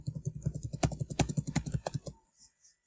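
Fingers type on a computer keyboard up close, a quick irregular run of soft key clicks for about two seconds, then a couple of faint final taps before quiet.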